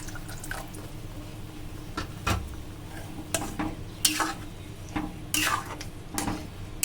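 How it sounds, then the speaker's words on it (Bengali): Semolina and water being worked into a stiff dough in a pan, with irregular wet scraping and knocking stirs over a faint sizzle, close by and without talk. "নেড়ে চেড়ে একটা শক্ত ডো বানিয়ে নেব"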